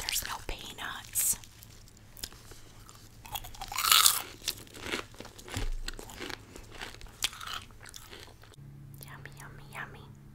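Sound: crunching popcorn candy while eating

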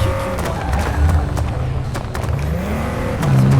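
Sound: Nissan GT-R R35 engine in video game Forza Horizon 5

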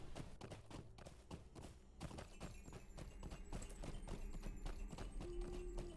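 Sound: horse hooves, riding in a video game

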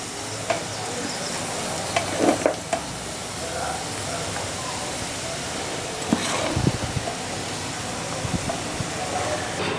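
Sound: stirring rice in hot tempering

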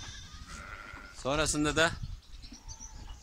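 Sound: goats and sheep bleating on a farm

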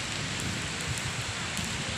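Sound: rain falling at the workplace

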